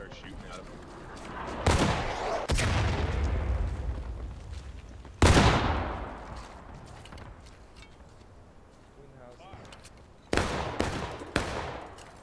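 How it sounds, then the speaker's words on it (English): Gunfire in the Civil War game War of Rights: a loud close shot near the start and another mid-clip, each trailing off in a long rolling echo, then two more sharp shots near the end, with distant firing and occasional voices between them. "You can just start shooting at them."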